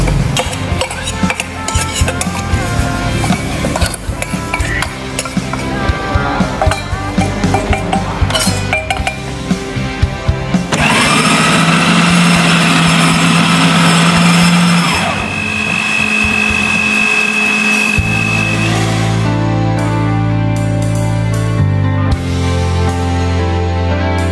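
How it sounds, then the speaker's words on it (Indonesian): Kitchen blender grinding a spice mixture for taro flour dry noodles until smooth, a steady loud motor whir running for several seconds between clinking and rattling of utensils and containers. "kemudian kita akan blender sampai halus"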